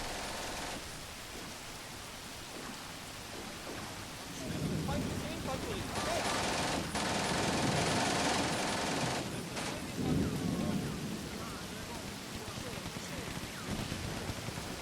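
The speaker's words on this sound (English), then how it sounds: "So we got our artillery landing" Artillery shells landing in the Combat Mission war game, faint muffled booms and crackling bursts rolling over a steady background, with a denser rumble of impacts in the middle, no talking.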